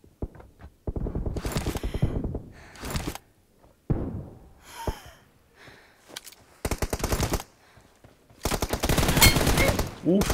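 Video game firefight with repeated bursts of automatic gunfire and single sharp shots in short and long volleys separated by brief gaps, loud and close.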